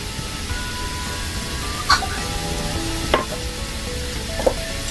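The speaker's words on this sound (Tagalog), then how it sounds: "And then you can start to add the tomato sauce." Tomato sauce goes into chicken afritada cooking in a pan, giving a soft continuous sizzle with three distinct clinks of a spoon against the pan spaced a second or so apart.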